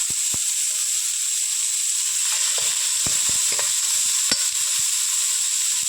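Steady sizzling of onions and curry leaves sautéing in a hot pan after mustard seeds, with a few scraping stirs and clicks of a spatula, close and continuous.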